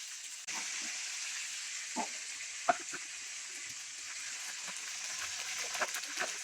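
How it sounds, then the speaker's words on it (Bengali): Spices and chopped onion sizzle steadily in hot oil for a Bangladeshi sonali chicken curry, a continuous faint hiss broken by soft stirring scrapes and a few small pops. "মশলাগুলো একটু ভালোভাবে কষিয়ে নিতে হবে।"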